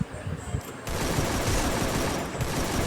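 Rapid automatic gunfire rattles steadily in a Free Fire ranked class squad match, a dense loud burst of shots starting abruptly and continuing to the end, with a voice talking over it.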